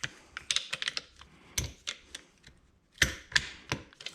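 Small metal clicks and taps as a retention clip is seated into its groove on a 2003 Suzuki Intruder motorcycle fork, a string of sharp close clicks with brief pauses, a louder snap near the end.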